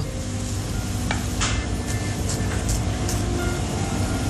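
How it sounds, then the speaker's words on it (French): Steady crackling sizzle of vegetables, onions and shallots cooking in hot olive oil, with occasional stirring clinks and scrapes from a pan, continuous throughout. "Mettez l'huile d'olive dans une casserole. On fait revenir les légumes."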